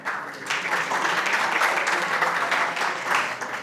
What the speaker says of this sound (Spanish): Un aplauso a la doctora Audrey González.